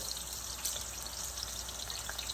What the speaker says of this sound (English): We're going to fry that a little bit.